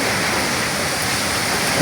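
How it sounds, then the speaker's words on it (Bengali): Dense, steady roar of heavy storm rain pouring down, loud and continuous with no pauses. "প্রচুর ঝড় বৃষ্টি হইতেছে, দেখতে পারছেন কী অবস্থা।"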